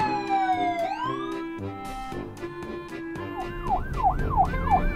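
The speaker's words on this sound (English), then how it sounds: "This is the fire truck." A fire truck's loud wailing emergency siren with rising and falling sweeps, followed by a faster yelping wail over rumbling traffic noise.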